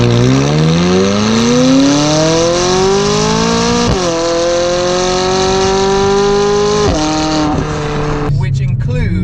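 A McLaren 540C's loud Larini GT1 exhaust with cat delete revs up repeatedly, the pitch climbing and dropping between throttle blips, close by, ending in a sharp cutoff.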